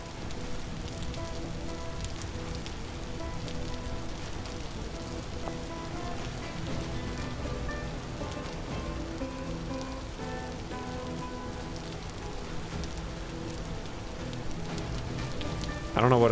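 Steady rain falls in the video game Vintage Story, a dense continuous patter on surfaces with no letup, mixed with faint tonal game sounds and a brief louder burst at the end.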